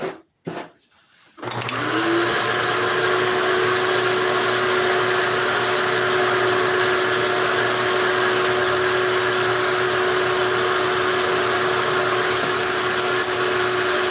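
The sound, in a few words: grinding with a grind tool in a shop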